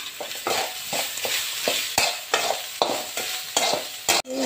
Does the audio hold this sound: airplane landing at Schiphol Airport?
no